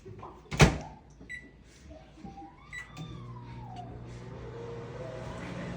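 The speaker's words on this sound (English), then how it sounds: "while it's in the microwave" Microwave oven running while cornflake candy heats inside, a steady low hum settling in after a faint clunk and brief tones, with scattered kitchen noises early on.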